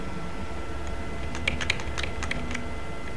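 Arrow keys on a computer keyboard are pressed in a short burst of light clicks in the middle of the stretch. The taps are quiet and lie over a steady room hiss, with no talking.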